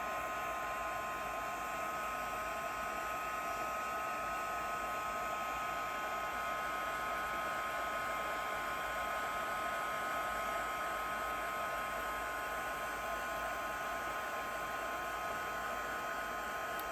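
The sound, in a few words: heat tool blowing hot air for embossing on vellum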